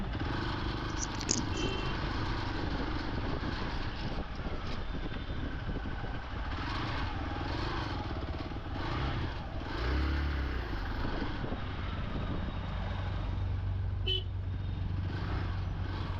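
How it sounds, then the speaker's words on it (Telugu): Motorcycle and auto-rickshaw engines hum and rev in a dense traffic jam on the road to Prayagraj, with occasional short horn toots and a steady road rumble throughout; no clear talking. "బైక్స్ మటుకు వెళ్తున్నాయి బైక్స్ ఆటోస్"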